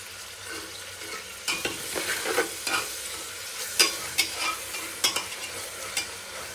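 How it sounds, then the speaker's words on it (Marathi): Onion frying in a pan while being stirred, a steady sizzle broken by sharp scrapes and clacks of the spoon, close and without voices. "कांदा गोल्डन पिंक होईपर्यंत चांगला परतून घ्यायचा आहे आपल्याला."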